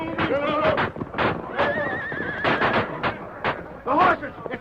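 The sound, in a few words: horses neighing, radio drama sound effect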